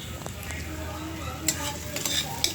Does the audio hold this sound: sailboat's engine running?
no